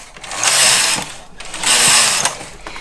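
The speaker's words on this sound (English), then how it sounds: "I'm going to knit four more rows with the slightly smaller stitch size" Knitting machine carriage knitting rows of a buttonhole band, two loud sweeping passes in quick succession, each a rising and falling mechanical whoosh with clacking, close and alone.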